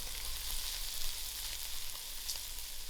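A lentil (masoor dhal) filling for cannelloni fries in a pan with a constant close-up hiss and crackle and no voices.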